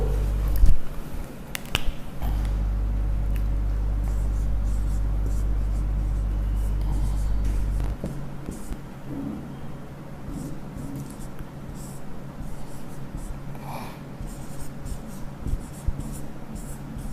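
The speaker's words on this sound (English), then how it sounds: "I may show it by writing on the board." Chalk or marker writing on a classroom board, a run of short scratchy strokes and taps, close and moderately loud, with a low steady hum underneath.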